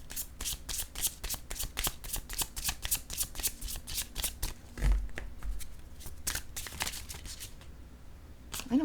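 A tarot deck is shuffled steadily for several seconds, giving a close, rapid run of crisp card flicks and riffles with no talk over it.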